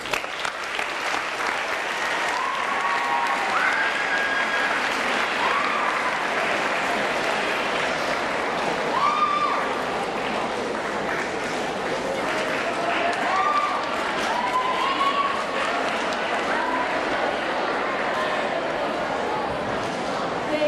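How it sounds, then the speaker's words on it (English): Sustained crowd applause for French and Spanish teachers at an eighth grade ceremony, dense and steady throughout with occasional brief cheers or whistles rising above it. "Let's have a round of applause for our dedicated French and Spanish teachers."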